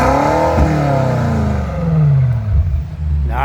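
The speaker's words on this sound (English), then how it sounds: "let's get a little bit more rev time" A 2018 BMW M5's engine revs loudly and close up, its exhaust rising and falling through rapid throttle blips with a deep rumbling drone and harmonic sweeps.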